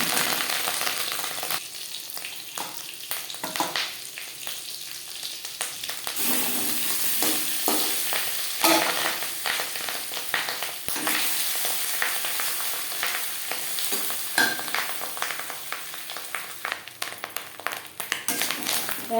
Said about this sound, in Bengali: দু চামচ রিফাইন্ড অয়েল গরম করে নিয়েছি এবার দিয়ে দেবো ম্যারিনেট করে রাখা